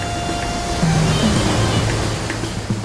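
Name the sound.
rushing river water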